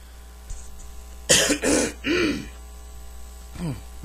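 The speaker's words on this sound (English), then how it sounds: "Sorry about that. I had to clear my throat." A person clears their throat in three harsh, rasping bursts close to the mic, followed by a softer throaty sound, over a low electrical hum.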